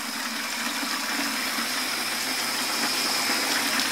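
Water gushing steadily into home brew beer wort while it froths up, a constant, even rushing and fizzing pour with no talking.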